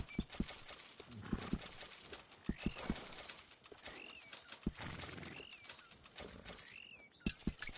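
Rhythmic hoof clip-clops of a horse in Red Dead Redemption 2, steady and fairly close, with soft wing flaps and bird sounds in the background.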